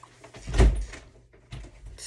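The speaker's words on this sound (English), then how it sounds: "Stop slamming doors." A door slams shut indoors with a loud, close thud, followed by a second, softer door knock or bump a moment later.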